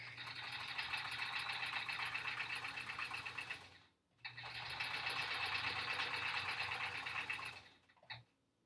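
A sewing machine stitches fabric strips for a quilt in two long, steady whirring runs, with a short pause between them. A brief stop and restart follows at the end, and the machine sounds fairly close.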